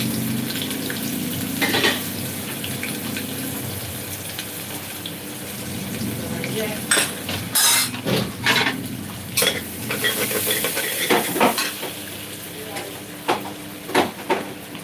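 Finely chopped onion fries in hot oil in a kadai, a continuous sizzle overlaid with repeated clattering stirs and scrapes that grow busier toward the end, with a faint running-water sound in the background.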